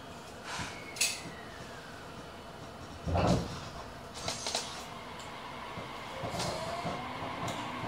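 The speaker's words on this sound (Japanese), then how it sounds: "ドアが閉まります。" A JR 817 series train's doors slide shut on the Nippō Main Line, giving a brief thud amid low rumbling interior noise and a faint chime-like tone.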